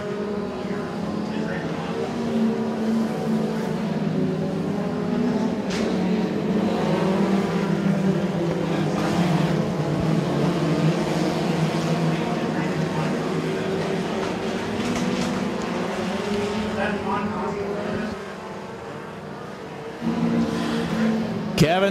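Compact race cars circle an oval at Moler Raceway Park, a continuous droning roar of engines near and far with passing swells, under steady commentary from a track announcer.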